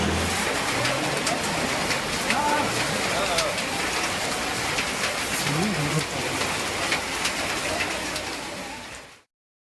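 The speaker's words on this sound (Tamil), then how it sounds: "பலத்த காற்று மற்றும் இடியுடன் கூடிய கனமழை பெய்ததால் மழைநீர் சாலையில் பெருக்கெடுத்து ஓடியது" Heavy rain driven by strong wind and thunder pours onto a road with a steady, dense hiss. Faint bird cooing sits under it, and the sound cuts off abruptly at the end.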